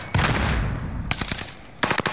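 Rapid automatic gunfire from an enemy in a video game battle royale, loud and close, with one sustained burst followed by two shorter clusters of sharp shots.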